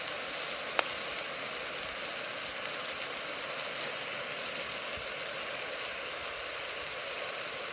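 Garlic butter and oil sizzle softly in a pan at a cold solo wild camp, a faint, even crackling hiss with a couple of small clicks.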